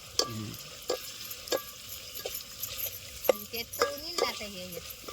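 Ground masala paste frying with onion in a pan for a dry mutton fry, with intermittent stirring scrapes and clicks over a steady low sizzle, close and moderately quiet.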